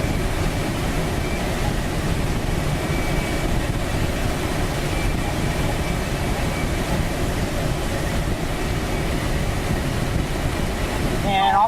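Small airplane climbing through about 1,200 feet near the edge of the Everglades, its engine and airflow a steady, loud, broadband drone filling the cabin throughout.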